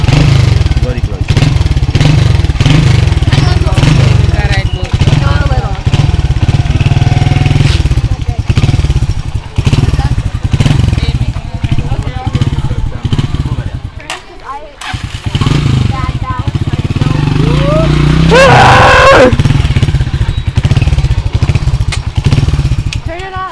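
A motorcycle engine idles and revs nearby during a first ride in Africa, its low rumble running steadily beneath frequent conversation and occasional thumps.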